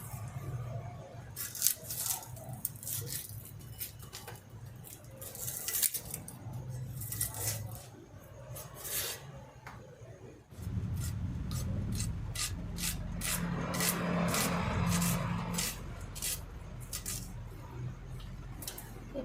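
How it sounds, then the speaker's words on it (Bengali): Onions are chopped with a knife on a board, a run of quick rhythmic blade taps and scraping strokes, close up and moderately loud, speeding into a denser chopping flurry in the second half. "প্রথমে আমি পেঁয়াজটা কুচাবো।"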